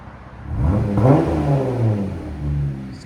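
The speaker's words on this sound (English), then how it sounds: "Rev it." A 2023 Jeep Gladiator's 3.6L V6 with a Dynomax Race Bullet exhaust and resonator delete revs up and settles, then revs again, with a deep rising and falling engine note that stays loud and close throughout.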